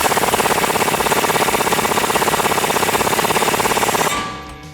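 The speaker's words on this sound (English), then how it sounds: "I'm using an air impact." An air impact wrench drives in a bolt during coilover installation on a 2015-2019 Mustang, giving a loud, rapid continuous hammering rattle for about four seconds before it releases and winds down, close with no speech.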